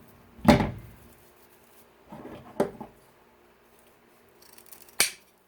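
Wiss scissors snip close up through wreath-making material: several crisp cuts and snaps spaced a second or two apart, with light handling rustle between them in a quiet room.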